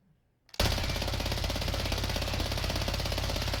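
Fin LMG in Warzone firing a long continuous automatic burst of over 50 rounds, starting abruptly after a brief quiet moment and continuing at a fast, steady rhythm, loud and close.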